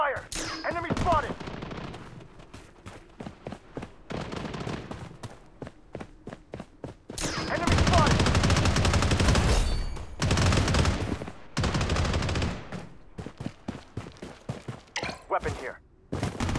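Gunfire in the mobile shooter game Blood Strike: loud rapid automatic bursts and sustained volleys, with footsteps and scattered single shots between them, while brief game voice callouts are heard.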